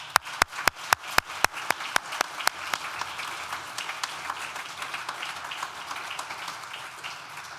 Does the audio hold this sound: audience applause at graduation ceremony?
yes